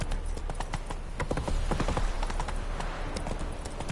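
Horse hooves gallop in The Witcher 3, a loud rhythmic clip-clop pounding steadily throughout with game ambience and no talking.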